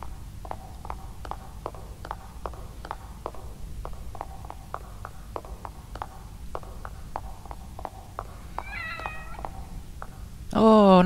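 A cat in a video game meows once near the end, a short clear call that follows repeated soft footstep-like taps over a steady background hum.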